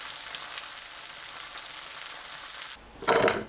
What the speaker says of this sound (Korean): 부드러운 두부조림을 좋아하시면 살짝만 굽고, 겉이 꼬들한 것 좋아하면 바짝 구워도 좋습니다